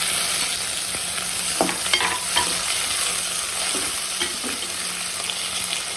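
Chopped chillies and onions fry and sizzle in a pan for mutton curry, a steady close hiss with a few sharper crackles and stirring scrapes throughout, no voices.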